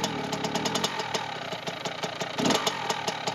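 A Kawasaki KX65 dirt bike engine idles after a kick start, a fast, steady two-stroke putter with a slight rise in revs, heard up close and alone.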